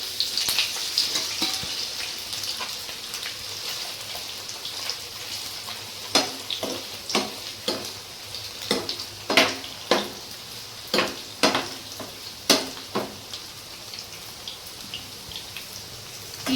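Egg pieces frying in oil in a pan give a steady sizzle, punctuated by a run of sharp spatters and pops that grow denser and louder partway through, close up and without talk.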